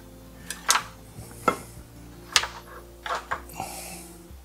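A squash for baking having its seeds scooped out with an ice cream scoop or knife, giving several light scraping scoops and small clinks of metal against the squash and a bowl, close and fairly quiet.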